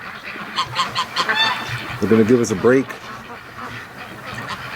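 Free-range ducks on a farm let out several loud, nasal quacks and honks in short bursts, close by, with a voice talking over them.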